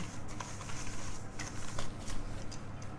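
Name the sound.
mixing butter with sugar for chocolate cupcakes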